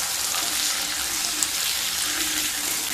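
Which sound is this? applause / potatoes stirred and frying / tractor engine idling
potatoes stirred and frying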